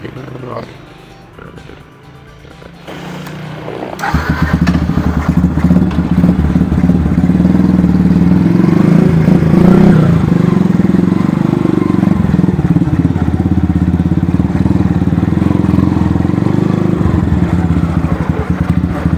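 A Yamaha Byson motorcycle, a brat cafe build with a stock-style exhaust, idles quietly, then roars to life and settles into a loud, rumbling idle with occasional revs, while someone talks over it.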